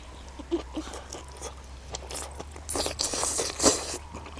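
Water lettuce flowers are bitten and chewed, giving a few faint, irregular crunches close to the ear over quiet background noise.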